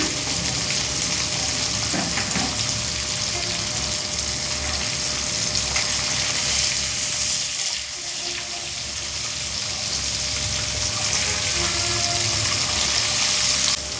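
Fish shallow frying in oil in a home kitchen, a steady dense sizzle with crackling hiss running loud and continuous throughout, no voices over it.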